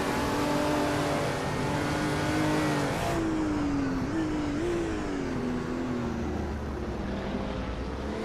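Race cars in a video game surge off the starting line, engine tones climbing and shifting in a continuous moderately loud whine with gear changes, no voices.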